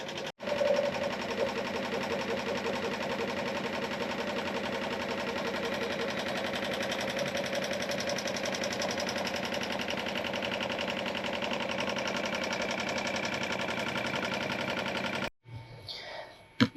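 Multi-needle embroidery machine stitching a USAF design onto a YP Classic cap, laying down long satin stitches as a steady, loud, rapid mechanical chatter that runs continuously for about fifteen seconds before stopping abruptly.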